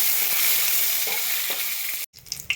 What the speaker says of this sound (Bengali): তেলটা গরম হয়ে গেছে, আমি মৌরি ফোড়ন দিলাম। এটা মৌরি, শুকনো লঙ্কা,